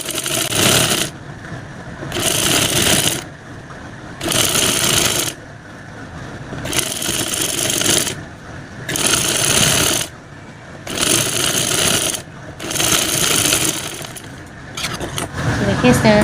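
A sewing machine stitches the edge of a kurti neck in loud, close whirring bursts of one to two seconds each, about seven runs separated by short pauses.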